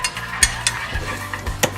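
Black pepper ground from a mill over a meat and potatoes dish, a quick run of close, dry ratcheting clicks and crunches in a short burst.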